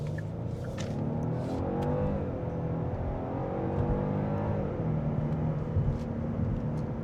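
A 2025 Genesis G90 luxury sedan in sport mode accelerates hard on a highway, its engine a steady, loud rising drone with shifting harmonic sweeps heard from the cabin, no voices over it.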